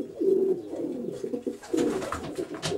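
A racing pigeon coos close by, a few soft, throaty rolling calls in quick succession.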